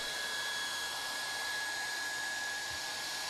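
A hot air welding gun feeding welding rod into a floor seam gives off a steady, even blowing hiss, continuous and unchanging, with no voices.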